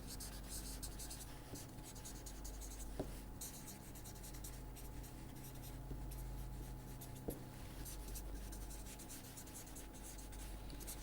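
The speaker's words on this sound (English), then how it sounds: "Let us write it down." Chalk or pen writing during a lecture on the time-bandwidth product, steady faint scratching strokes with a few sharp taps, running continuously over a constant low room hum.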